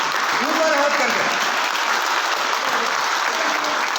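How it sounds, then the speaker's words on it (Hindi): A crowd at an Aam Aadmi Party gathering claps steadily and loudly throughout, a dense sustained round of applause with a voice briefly audible over it early on. "जोरदार तालियां, ऐसे ही"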